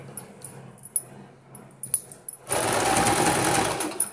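A sewing machine stitches a blouse lining, first a few soft taps and light clicks, then a steady loud whirring run of stitching through the second half.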